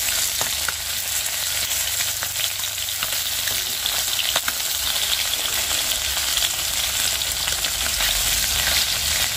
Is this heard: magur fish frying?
yes